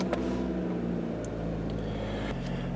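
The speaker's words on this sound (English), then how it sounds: "The car running, it sounds pretty great." A car engine runs at a steady idle during a pre-purchase inspection, a low, even hum with a faint rumble, fairly quiet and close, with a couple of small clicks and no talking.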